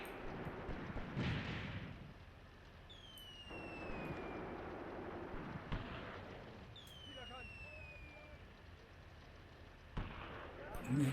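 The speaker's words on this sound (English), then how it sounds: "we've got mortar fire coming in, or going out maybe" Mortar fire booms and explosions in the WWII tactics video game Graviteam Tactics: On The Luga Line, faint and distant thuds with whistling incoming shells, heard under background battle ambience.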